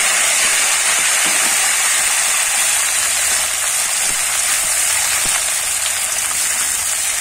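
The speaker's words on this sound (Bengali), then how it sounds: "এবার ওই তেলের মধ্যেই কিন্তু বরবটিগুলো ভেজে" Long beans frying in hot oil in a pan for a Bengali recipe, a steady loud sizzle with fine crackles, no talk.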